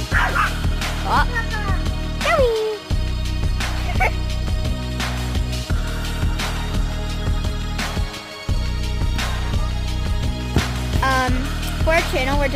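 A pet dog yips and barks in short excited bursts at home by a pool during play, mixed with people talking and general household activity throughout.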